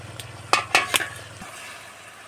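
A metal pot lid being lifted while a village-style Bengali fish curry with kochur loti simmers, giving a few close clanks over a soft bubbling background, with no voices.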